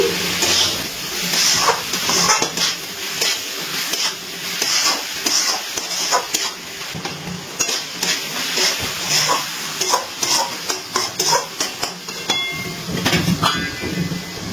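Cabbage, tomato and fried potato get stirred together in a pan for vegetarian cabbage ghonto, with repeated scraping strokes over a steady sizzle. The sound is close and fairly loud and runs throughout.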